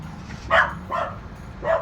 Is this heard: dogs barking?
yes